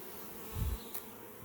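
A captured honey bee swarm buzzes as a steady faint hum, with one brief louder low thump near the start of the moment.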